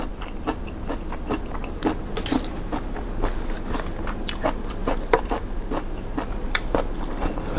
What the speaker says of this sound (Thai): สาหร่ายวากาเมะเนี่ยบางคนก็ชอบนะมันจะแบบกินแล้วมันกรึบ